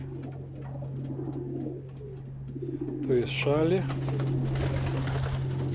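Pigeons of an auction racing stock coo in the loft, with a short burst of cooing midway over a steady low hum, while someone talks nearby.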